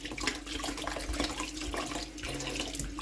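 Running water from a tap splashes steadily over pothos roots as mud is washed off them, a close, continuous faucet stream with no speech.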